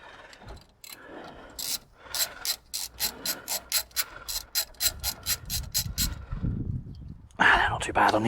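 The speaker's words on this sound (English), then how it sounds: "Got a 17mm spanner on the front, 14 on the ratchet on the back." Ratchet working loose a rear brake caliper nut on a Mazda MX5 NC: a long run of rapid, evenly spaced metallic clicks, close and crisp, followed by softer handling noises and a brief louder clatter at the end.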